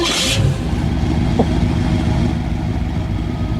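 A car engine runs steadily up close, with a brief higher burst near the start and a constant mid-pitched drone under a faint background hum.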